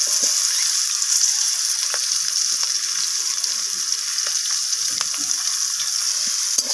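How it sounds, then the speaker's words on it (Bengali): Sliced onions dropped into hot oil in a pan, frying with a dense, steady sizzle close up, with faint stirring scrapes and no voices over it. "এরপর ওই একই তেলের মধ্যে আমি কেটে রাখা পেঁয়াজগুলোকে দিয়ে দিলাম।"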